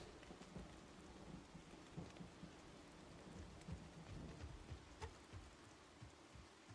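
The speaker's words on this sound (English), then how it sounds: "It's a very loud storm." Video game thunderstorm ambience with steady rain pattering on surfaces and low rumbling thunder throughout, a dense, fairly quiet wash with scattered drop hits.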